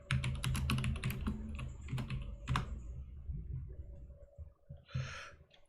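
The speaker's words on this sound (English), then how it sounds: "the cat climbed on the keyboard" A cat walks across a computer keyboard, producing irregular bursts of key clatter and thumps, loud at first and then sparser, with soft breathing-like sounds between.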